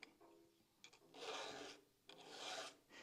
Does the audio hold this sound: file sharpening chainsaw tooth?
yes